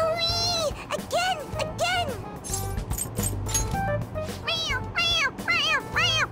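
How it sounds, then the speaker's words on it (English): A toy cat gives a series of repeated electronic meows, several in quick bursts with short gaps, with clattering and voices talking and laughing around it. "It meows when you press on its head."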